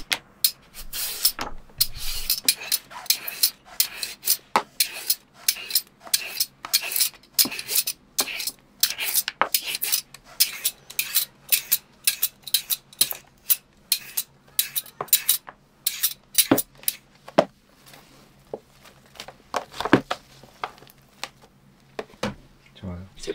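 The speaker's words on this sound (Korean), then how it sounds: "그리고 채칼로 당근을 얇게 썰어주세요." Carrots sliced thinly on a mandoline slicer, a long run of sharp, rapid rhythmic scraping strokes close up, steady throughout with brief pauses.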